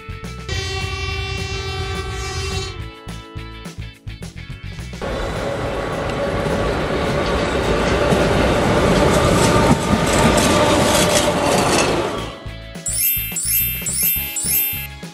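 A locomotive rumbles along the rails as a loud, sustained pass with a heavy, steady roar through the middle, framed by tonal horn-like blasts at the start and bright, repeated chimes near the end.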